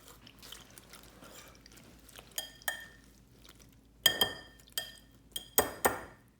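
A spoon scrapes and stirs a marshmallow mixture in a glass bowl, giving a string of sharp, bright clinks against the glass at an irregular pace, with a soft, quiet background between the strikes.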